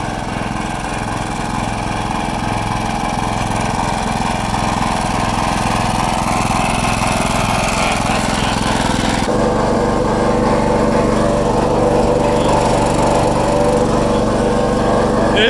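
A riding lawn mower engine runs steadily and loudly at close range while the mower is driven on flat tires. The droning motor shifts its tone slightly partway through.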